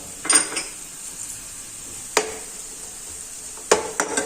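A spoon scrapes and clatters against a pan as chopped capsicum and vegetables are stirred and sautéed for suji appam. Three or four crisp metallic knocks come over a soft, steady background sizzle.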